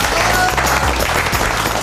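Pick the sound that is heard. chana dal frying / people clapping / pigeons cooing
people clapping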